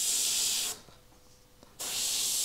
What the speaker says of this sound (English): Uneven spray just to build up a bit of texture as well in those highlights.